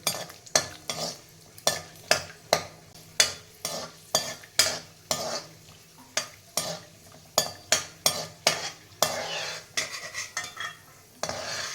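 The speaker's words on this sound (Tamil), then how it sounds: "முந்திரியை வந்து கொஞ்சம் லேசாக எண்ணெயில் வறுத்து எடுத்துக்கலாம்" Cashews frying lightly in a little oil in a kadai, with a spoon scraping and stirring in steady, rapid strokes that clatter against the metal over a soft sizzle, close and fairly loud with no talking.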